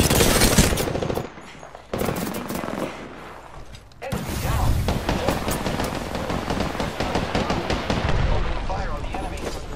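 Automatic weapon fire from an Apex Legends match on Kings Canyon comes in dense, rapid bursts separated by short pauses, loud and close, with game effects around it.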